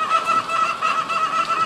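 Hens in a henhouse, birds settling and eating at feed, give a steady, close murmur of soft clucks and chatter with a repeated higher call running through the whole short stretch.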